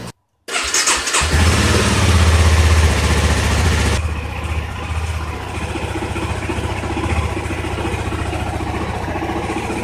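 A 2015 Honda CBR motorcycle with its stock exhaust starts up, giving a loud steady revving roar before settling into a lower, rhythmic idle that continues close and alone, with no voices.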